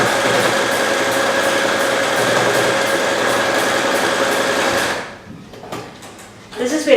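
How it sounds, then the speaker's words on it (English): A sewing machine stitches a seam in patchwork fabric for a cushion, its motor giving a steady close mechanical whir for about five seconds before stopping, followed by quieter scattered handling clicks. "I'm going to sew my seam down these, just keeping it to the side of the presser foot"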